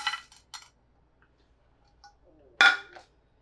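Whole spices for jeeravan masala rattle into a pan for light roasting, a few quick clinks and tumbling patters, the loudest burst near the end, with quiet gaps between.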